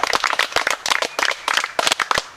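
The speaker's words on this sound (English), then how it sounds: "So give yourselves a little round of applause for making that through." Scouts of Troop 612 at a Lost Pines scout camp applauding themselves, a small group clapping in loose, uneven bursts with distinct individual claps, close and lively, without talk.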